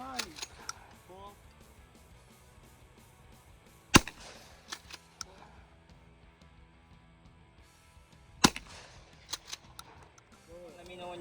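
A 12 gauge shotgun fires at clay targets outdoors, giving two sharp, loud reports several seconds apart with quieter clicks and handling noises between them, and faint voices in the background.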